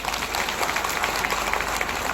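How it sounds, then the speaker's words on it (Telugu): An audience at a BJP public programme in Chevella breaks into applause, a dense, steady patter of many hands clapping together at a moderate distance, filling the whole moment without speech. "ఇప్పుడు ఒకసారి చప్పట్లు కొట్టిన అందరూ."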